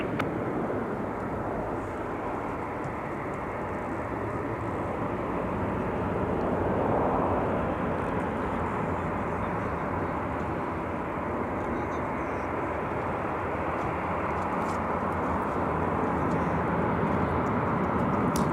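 An Antonov An-124 cargo jet departs from MSP airport, its broad engine roar steady and distant for the whole stretch, with a voice talking over it.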